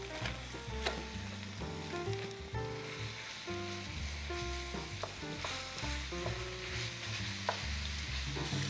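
Ground meat sizzles steadily in a hot pan while being stirred, with a continuous close frying hiss and faint scraping, with no voices.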